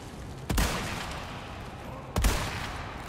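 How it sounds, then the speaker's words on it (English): Two loud, sharp Red9 pistol shots ring out in the Resident Evil 4 Remake video game, spaced about one and a half seconds apart, each with a short reverberant tail. "I love the sound of the gun"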